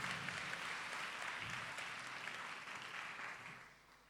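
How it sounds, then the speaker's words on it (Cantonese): An audience at a school prize-giving ceremony applauds to welcome a guest, with faint, distant, even clapping that fades away at the end. "咁我哋咧俾掌聲歡迎阿吳博士啦"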